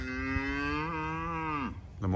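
A single long, close cow moo, low and drawn out for well over a second before trailing off.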